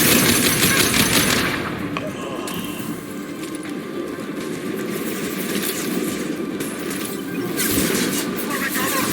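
A Mad Dog heavy weapon fires in Mass Effect 2 Legendary Edition combat, with rapid dense rattling bursts and heavy game ambience behind them, while a voice talks over the action.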